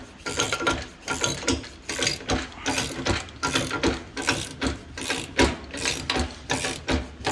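A ratcheting hand crimper tightens a fitting on an automotive AC hose, a loud close clicking ratchet repeating in steady rhythmic strokes for several seconds.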